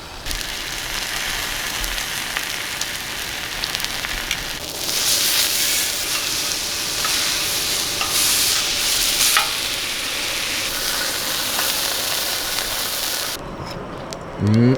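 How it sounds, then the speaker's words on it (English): Steaks searing on a Skottle grill outdoors, a loud, broad spattering sizzle with bursts of scraping and stirring that swell midway, then drop away sharply at the end. "all you need to do is just sear them, maybe a little bit longer than you would at home"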